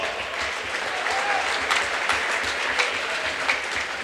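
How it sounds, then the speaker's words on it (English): A crowd at a high school basketball game against Hibbing gives a sustained round of applause, dense and steady with a few sharper claps standing out, echoing in the gym. "Let's give him a round of applause."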